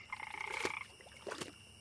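An unusual-looking frog held in a gloved hand croaks twice in quick succession, short rasping calls close by with a faint hiss of background noise between them.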